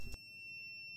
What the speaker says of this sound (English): immediately we're gonna get an alarm because there's no water in it, so it's gonna trigger the low water alarm